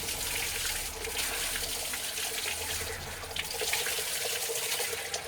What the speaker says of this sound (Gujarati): ઓહો બહુ જોરદાર પાણી હા